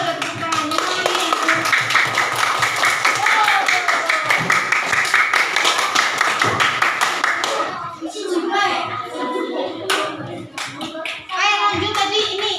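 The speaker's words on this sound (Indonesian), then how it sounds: "masa nggak ada tepuk tangannya nih?" Children in a fourth-grade classroom clap together in a steady, loud burst of hand claps with kids' voices mixed in, then the clapping fades into scattered talk and noise.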